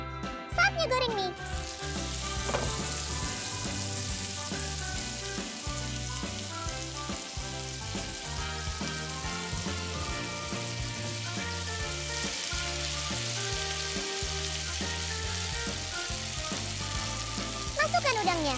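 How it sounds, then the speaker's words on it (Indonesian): Noodles frying in a pan for a seafood octopus dish in Thai sauce, a steady, loud sizzle lasting throughout with occasional stirring clinks, under continuous background music. "Saatnya goreng mie."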